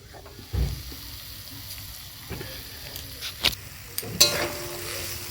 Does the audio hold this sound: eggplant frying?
yes